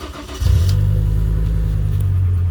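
A VW Golf Mk4 with a 2.3 V5 engine catches and settles into a steady, deep, loud idle right beside the listener.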